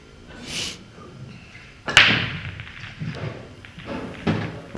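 Pro Series pool break shot: a sharp, loud crack of the cue ball hitting the racked balls, followed by a scatter of fainter clicks and knocks as the balls spread and hit cushions.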